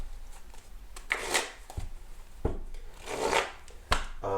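A deck of tarot cards is shuffled by hand in several bursts of riffling and sliding, with a few sharper taps and pauses between them, close and moderately loud, with no voice.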